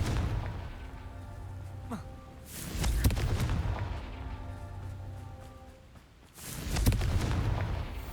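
Confringo blasting spells explode in Hogwarts Legacy, with two heavy booming blasts a few seconds apart over a low background rumble.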